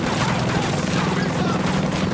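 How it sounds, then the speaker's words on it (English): Explosion and gunfire in the Ghost Recon Breakpoint video game, a dense, continuous burst of booming shots and blasts filling the whole moment, loud and close, then stopping abruptly. "I think he survived that explosion."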